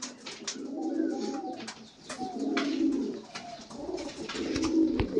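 Pigeons coo in repeated low, throaty phrases, several birds close by, with faint chirps and rustling between the calls and no talking.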